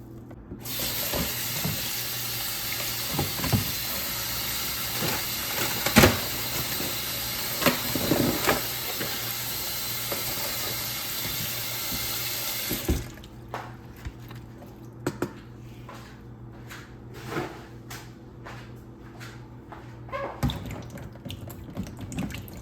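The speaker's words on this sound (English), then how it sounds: "I'm going to be washing the tomatoes" A kitchen tap runs in a steady, bright hiss while fresh tomatoes are washed under it. The flow stops after about thirteen seconds, leaving quieter handling clicks and clunks in the sink.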